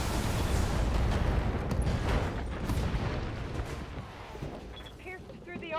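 Mech weapons in the BattleTech game let off a dense, rumbling barrage of blasts and booms, loud at the start and thinning toward the end, with faint mechanical whirs.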